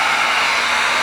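A heat gun blows hot air in a screen-printing setup, a steady, loud, close whooshing hiss that holds evenly for the whole moment with no talk.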